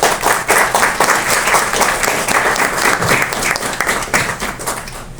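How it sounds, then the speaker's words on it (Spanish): An audience at a lecture on political philosophy in Bolivia claps in a sustained round of applause that holds dense and fairly loud for several seconds before thinning slightly at the end. "Un aplauso por favor."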